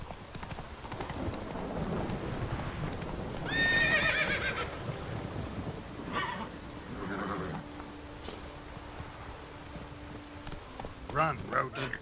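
Hooves of Roach, the horse in The Witcher 3, clop steadily in a gallop, broken by a loud whinny and later a snort, while a voice talks over the game sounds.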